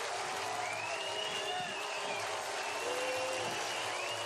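Baseball crowd at a spring training game between the Boston Red Sox and Minnesota Twins roars after a three-run home run by Nelson Cruz, a steady wash of cheering and applause with some whistles, sustained throughout.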